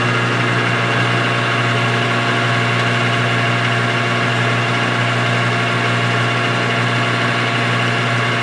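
A lathe runs in gear while machining a cylinder liner for a five-cylinder radial engine, giving a steady, loud motor hum with constant mechanical drone and no talking.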